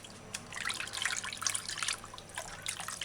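Water trickles and splashes into a bowl, fairly faint and close, in a few uneven bursts, used for washing spirulina.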